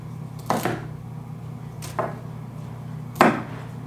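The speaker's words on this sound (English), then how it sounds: "So when you're dicing celery," Three separate knife chops on a cutting board while dicing celery, spaced about a second apart, crisp and close over a steady low room hum.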